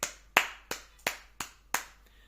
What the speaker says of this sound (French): faire des applaudissements depuis le centre de la pièce